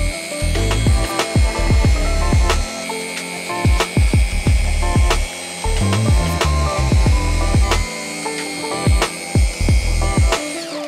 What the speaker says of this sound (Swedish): Men vi kommer få en helt annan lyster i folien genom att polera.